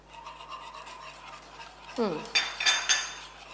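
A spoon stirring chocolate coffee custard for ice cream in a pot: soft rubbing and scraping strokes, then louder clinks and scrapes near the end, with a brief voice-like sound.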